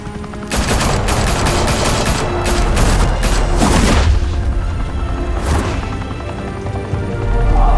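Rapid bursts of gunfire and booming shots crackle during a firefight in the video game Batman: The Telltale Series. The shots come loud and dense, then thin out, with no voices.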